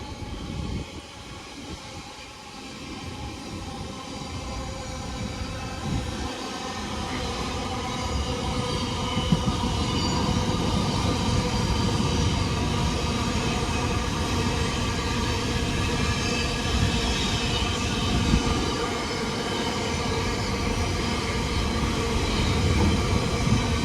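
Class 90 electric locomotives 90007 and 90011 coupled together at Wigan North Western station, a steady, loud rumble of the train with rail noise and faint clatter throughout, no talk.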